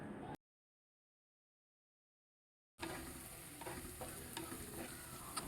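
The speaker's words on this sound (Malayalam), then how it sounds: "വഴറ്റി ബ്രൗൺ കളർ ആകുന്നത് വരെ നന്നായിട്ട് വഴറ്റുക." Onions sautéing in a pan for a Kerala-style beef fry, a steady sizzle with scraping stirs that starts after a short silent gap and continues fairly close and even.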